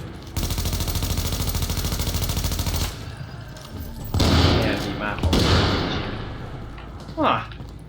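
Explosions in a PvE shooter game set in Lexington: a rapid rhythmic burst of firing, then two loud booming blasts with decaying rumble, close and dominant.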